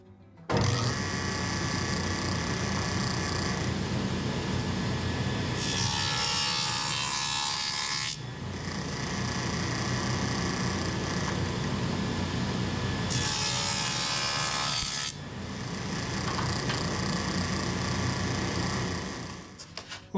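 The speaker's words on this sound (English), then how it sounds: "I put my stacked dado head cutter in the saw and I set that up for 1/2 inch thick" A table saw with a stacked dado head cuts rabbets in plywood: two loud, sustained whining passes with the blade spinning between and the motor running up front, close and alone without speech.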